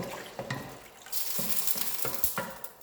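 Water pours and splashes into a pot with a few clinks and stirring sounds, close and moderately loud, no voices.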